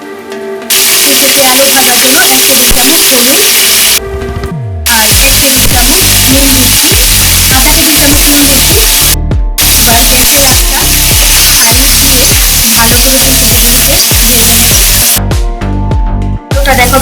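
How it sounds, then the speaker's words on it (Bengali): Cauliflower florets and potatoes frying together in hot oil in a wok, a loud, dense, continuous sizzle close up, broken by a few brief pauses and clattering stirs. "এখন ফুলকপি আর আলুগুলো ভেজে নেব"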